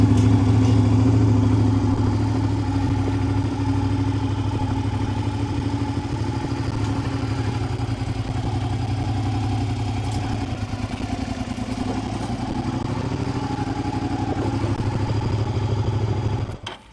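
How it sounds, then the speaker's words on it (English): A motorcycle engine runs at a steady idle close by, a continuous low rumble with light mechanical clatter, while the bike is being loaded into a pickup truck. "After that, I will start it up, take it off the stand, and ease it up there."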